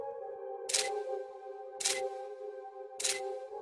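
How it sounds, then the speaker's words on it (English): A camera shutter fires three times at roughly one-second intervals during continuous high-speed night-sky shooting. Each snap is sharp and close over a steady tonal hum. "Continuous shots are taken at a high shutter speed."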